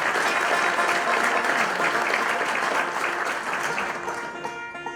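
An audience at a bluegrass show with Joe Mullins & the Radio Ramblers applauds for bass player Randy Barnes, a steady wash of clapping from a sizable crowd that holds for several seconds before beginning to thin out.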